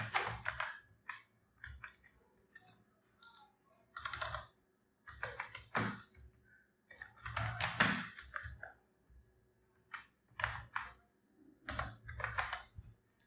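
Fingers type on a computer keyboard in short bursts of crisp, close clicks, several quick runs of keystrokes separated by brief pauses.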